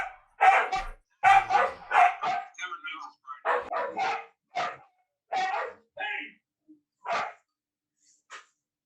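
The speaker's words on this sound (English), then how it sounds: "Neighbor dogs." Neighborhood dogs bark in short, repeated yapping bursts at fairly close range, with some whimpering or yips between the barks.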